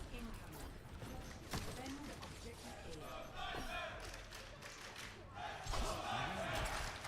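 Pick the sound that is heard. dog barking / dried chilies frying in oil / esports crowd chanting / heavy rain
esports crowd chanting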